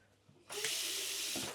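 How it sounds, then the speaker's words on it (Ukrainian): A bathroom tap in a Tenerife hotel room is opened and water gushes out at strong pressure, a sudden steady rushing hiss after a few faint clicks, close and continuous. "Водичка на гарний напір, напор."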